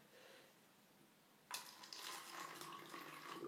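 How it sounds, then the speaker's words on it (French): Water is poured into cups for a soap science experiment, a sudden splashing hiss that starts after a quiet moment and keeps running steadily, close by. "on va remplir avec à peu près, approximativement, la même dose d'eau dans chacun des gobelets"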